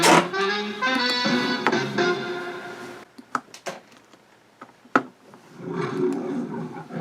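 The MGM lion roars at the end of a 1976 cartoon, giving two loud, rough growling roars separated by short pauses.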